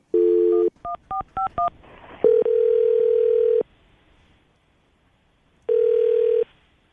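A telephone call being placed: a steady dial tone, then a quick run of five touch-tone DTMF beeps, followed by long ringback tones with a silent gap between them, close and clear with no talking.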